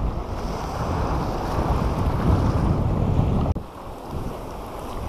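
Steady wind buffets a boat at sea while fishing for horse mackerel, a dense continuous roar with water wash beneath and one brief sharp dropout near the end.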